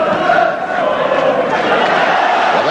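Football crowd at a Manchester City match in the 1982-83 season, a loud, sustained roar of shouting and cheering from the stands, steady throughout with no pause.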